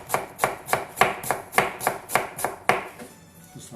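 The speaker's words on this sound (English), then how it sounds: "I'm just going to take this onion. And we're just going to do some really fine slices." A knife slicing an onion finely on a board, about ten crisp, evenly spaced chops close up, then a short quieter pause at the end.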